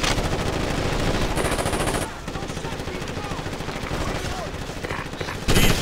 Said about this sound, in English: Fire, shoot anything that moves!